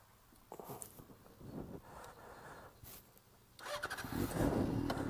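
Yamaha FZ6 motorcycle with a Two Brothers exhaust fitted with silencer inserts, starting up and revving in short bursts, fairly faint at first and then louder toward the end.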